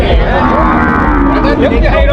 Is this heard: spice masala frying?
no